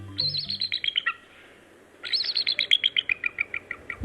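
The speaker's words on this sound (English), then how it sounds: "you may see the source of this call, a bald eagle" Bald eagle calling from high in a tall tree: two bursts of thin, squeaky chirping notes in quick descending series, the second longer, fairly clear against quiet background with a brief pause between.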